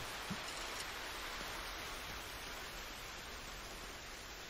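Steady rain falls in the Tomb Raider video game, a soft, even hiss with no breaks, faint and uniform throughout and with no voices.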